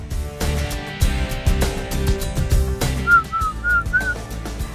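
Someone whistles a short, lilting tune of a few bright notes over a rhythmic music backing.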